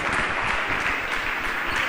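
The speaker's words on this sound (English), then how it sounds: "Please give him a bigger round of applause." A crowd applauds steadily for a speaker at a public gathering, a dense, even wash of clapping that holds without a break.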